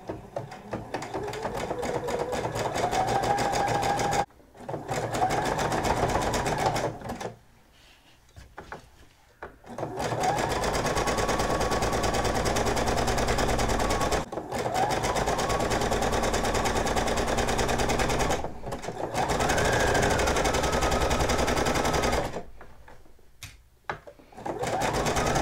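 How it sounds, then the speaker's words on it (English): A sewing machine runs a zigzag stitch on a sequin hoodie in long, steady whirring bursts of several seconds each, separated by short pauses, loud and close with no talking. "And I'm using the same zigzag stitch that I've been used for everything else."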